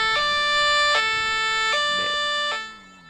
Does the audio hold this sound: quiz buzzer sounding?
no